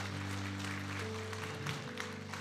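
Church congregation applause during a Sunday worship service: soft, brief clapping heard over sustained keyboard or organ tones that shift pitch partway through.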